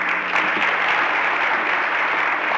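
An audience at a recognition dinner breaks into sustained applause, a dense, steady roar of many hands clapping that carries on evenly from start to finish.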